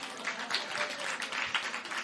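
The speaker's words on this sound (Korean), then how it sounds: "아주 여자분들에게 적극적인 박수를 받았습니다." Women at a Korean evangelism seminar give a brief burst of hand clapping, uneven and moderately loud, swelling and dipping over a couple of seconds.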